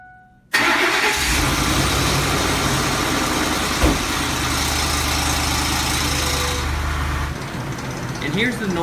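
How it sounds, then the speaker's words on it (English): A Ford Triton V8 that has sat for hours cold-starts abruptly after a short silence, then runs at a loud, steady idle with a metallic timing chain rattle running through it, dropping slightly near the end as a voice comes in. "rattle at startup and then also has a chain dragging noise like a roller coaster chain whenever it's running"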